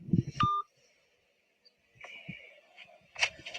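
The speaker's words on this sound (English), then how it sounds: "He just hung up the phone." A telephone line gives off electronic tones after a call is hung up, short beeps and a held dial-type tone, then a few more faint beeps after a quiet gap.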